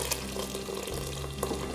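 Leftover water poured into semolina halwa cooking in a pan, a steady wet sizzle and bubbling close up with a few stirring clinks, no talk over it.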